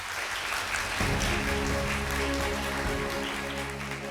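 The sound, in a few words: audience applause welcoming speaker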